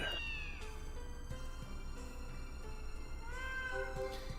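A cat in the Neko no Kaikata cat catalog video game gives two clear meows, one at the start and one near the end, over a steady musical background.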